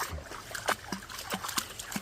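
A shallow Indiana creek about ten yards wide flows during a gold-prospecting outing, with small splashes and trickles recurring at close range over a soft watery background.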